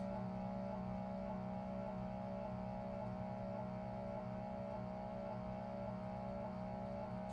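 A stepper motor driving a joint on a 3D-printed six-axis robot arm, its drive belt slipping, gives a steady loud whirring hum with a fixed tonal whine that holds level and unbroken throughout.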